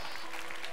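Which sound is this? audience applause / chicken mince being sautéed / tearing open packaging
audience applause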